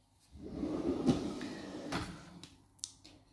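A kitchen drawer for tea towels and dish cloths slides and shuts up close, giving a soft rolling rumble and a few sharp wooden knocks near the end.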